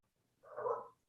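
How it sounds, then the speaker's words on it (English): A pet dog lets out a single short, muffled bark or whine indoors, quiet and brief, with near-silence before and after. "Sorry about my dog."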